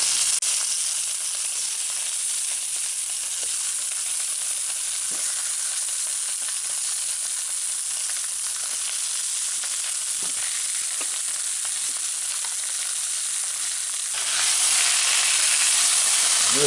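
Squirrel tenderloin fries and browns in a pan, giving a loud, continuous sizzle and hiss close up with small pops, briefly swelling louder near the end, with no talking.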